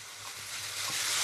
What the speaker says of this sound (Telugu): ఈ టైంలో అయితే మనకి శనగపప్పు ఉందో నానబెట్టుకున్న శనగపప్పు అదైతే యాడ్ చేసేద్దాం.